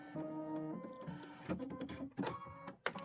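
A computerized embroidery machine stitching out a Halloween-themed tile design runs with a rapid mechanical chatter, tonal motor hum and irregular clicks and thumps, close up and with no talking.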